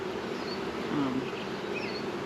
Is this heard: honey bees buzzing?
yes